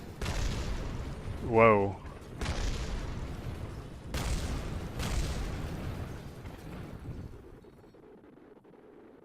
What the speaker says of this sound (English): We have failure. Things are exploding.